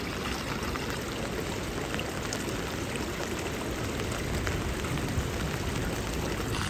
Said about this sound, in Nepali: पानी खत्रै पर्यो